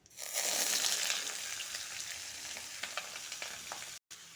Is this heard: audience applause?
no